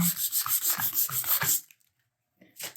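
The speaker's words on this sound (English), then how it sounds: "So we'll go ahead and sand some of this stuff down." Putty and caulk on new wood trim are sanded by hand in quick, rhythmic back-and-forth strokes, close and clear, followed by a short silence and then a brief final rub.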